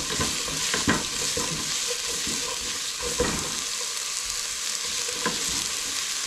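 Onion frying in a pan with garlic for a tomato and zucchini soup, giving a steady close sizzle with a few stirring scrapes and clinks throughout and no talk.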